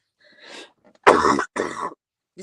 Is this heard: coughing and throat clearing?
yes